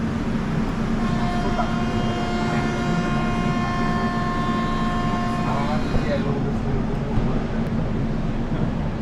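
Kamrup Express train pulling out of Aluabari station, a steady rumbling drone with sustained horn-like tones that fade after a few seconds, heard from on board.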